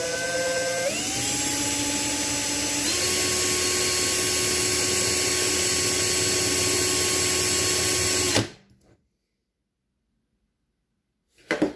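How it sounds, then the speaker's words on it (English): A power drill runs steadily on a toy die-cast car's back post, its whine shifting up in pitch twice before cutting off abruptly, followed by a few seconds of silence and a small clunk at the end. "Now we're gonna drill the back post."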